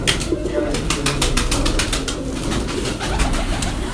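Pigeons on rooftops in Rawalpindi coo steadily amid a dense wash of sound and repeated sharp flutters, with voices faintly mixed in.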